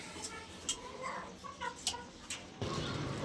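Clucking from a broody hen sitting on a clutch of eggs, with several short, soft calls scattered across the moment and faint background noise.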